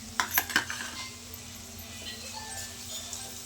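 Capsicum chitranna with fresh coriander being stirred in a pan, a few sharp metallic clinks and scrapes of a spoon up front, then a quiet low hum with faint stirring.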